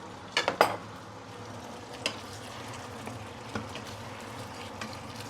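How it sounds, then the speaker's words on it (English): Sweet and sour prawns with a splash of white vinegar are stirred in a pan: a few quick scraping clinks near the start, then sparse taps over a low, steady sizzle, with no talking. "Give it a few stir"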